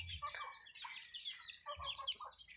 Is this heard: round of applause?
no